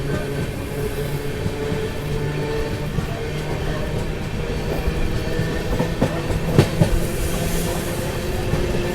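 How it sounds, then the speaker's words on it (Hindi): Amrit Bharat Express from Patna to New Delhi, hauled by two locomotives, rushes past at speed with a steady loud rumble and rhythmic clickety-clack of wheels over rail joints, sharper clanks near the end. "अब ये सही है कि अपनी ट्रेन में दो लोकोमोटिव लगे हुए हैं"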